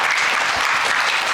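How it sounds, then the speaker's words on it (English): An audience applauds speakers and MCs at a learning celebration event in Bangalore, a dense, loud burst of many hands clapping together with no voices over it. "Huge round of applause."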